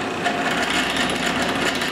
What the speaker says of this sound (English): So I go to the drill press and drill a hole on the nail.